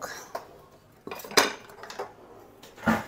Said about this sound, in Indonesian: Dan sekarang kita aduk-aduk.